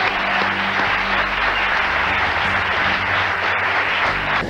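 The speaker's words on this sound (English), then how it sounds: "John Belushi, big round of applause." An audience applauds loudly and steadily, a dense, continuous roar of clapping that holds at full strength for several seconds without a break.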